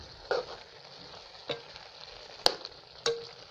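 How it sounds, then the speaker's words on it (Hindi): A spoon stirs carrot halwa mixed with ground almonds and pistachios in a pan, four soft scraping knocks spaced about a second apart over a faint sizzle, quiet and close with no voices. "अब इसको अच्छी तरीके से मिक्स कर लेते हैं।"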